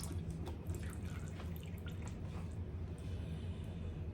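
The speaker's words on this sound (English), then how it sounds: "I'm getting my wax from the wax warmer right now" Melted candle wax for a beach-themed candle trickles and drips as it is poured from a wax warmer, a soft continuous liquid pour over low steady background hum, close and quiet.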